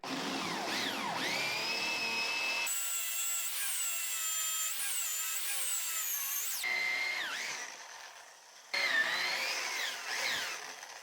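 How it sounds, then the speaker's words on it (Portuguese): A power drill bores through a piece of wood backed by a sacrificial board on a workbench, its motor whining steadily at close range with shifts in pitch as the bit bites, with brief pauses between runs. "Agora que eu já tenho um centro mais definido, é só eu furar até o final."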